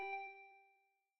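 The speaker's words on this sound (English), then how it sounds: "My body reacted reflexively as I heard the doorbell." Doorbell chime in the Danganronpa V3 video game, a single clear ringing tone that starts sharp and rings out smoothly, fading away over about a second, quiet and alone.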